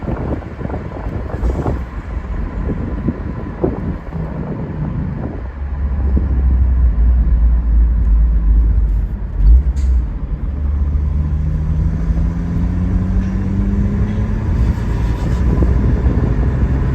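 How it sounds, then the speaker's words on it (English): A red 1993 Jaguar XJS with a five-speed manual, driven with the top down, gives a steady low exhaust drone that swells as it pulls, with wind rushing over the open cabin throughout. "Just a fantastic note from the exhaust."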